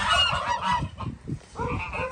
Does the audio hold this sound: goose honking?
yes